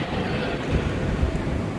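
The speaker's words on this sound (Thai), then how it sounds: "สายธรรมดาครับ" An ordinary passenger train at a railway station, a steady close rumble of rolling wagons with a broad roar throughout and no voices.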